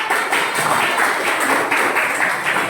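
Students in a classroom clap together after a history lesson on Islam's arrival in Indonesia, a steady, fairly loud patter of many hands from nearby that lasts throughout.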